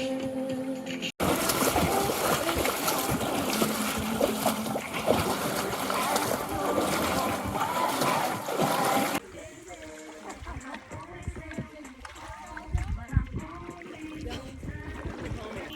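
Water splashes and sloshes around a canoe on a fall fly-fishing trip, with continuous spraying and churning close by, then quieter lapping and scattered splashes while people talk.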